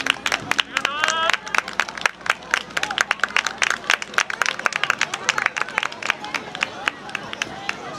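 Audience applause after a live song at an outdoor night stage event, many sharp claps in an irregular burst with crowd murmur and some voices underneath.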